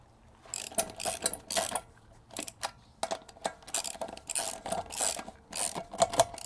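Ratchet wrench snugging the lug nuts on a raised Jeep wheel before it is lowered, a run of quick metallic clicking bursts with short pauses between them, close by and fairly loud.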